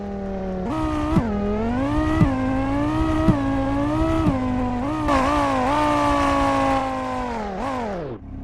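A Lamborghini Urus engine in the Roblox game Vehicle Legends revs and climbs through repeated gear shifts, each rise ending in a sharp drop, loud and close, before easing off at the end.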